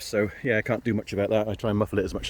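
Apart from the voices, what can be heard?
None of the usual background noises is heard.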